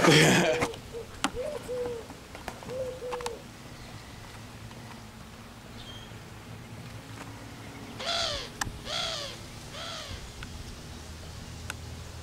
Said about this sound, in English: the screaming doves as they fly